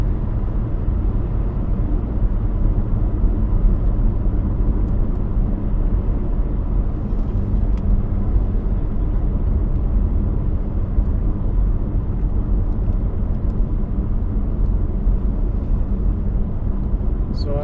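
A Saab 9-3 Turbo X car drives along with a steady low engine and road rumble running continuously underneath, near and fairly loud throughout, while a person talks inside the cabin.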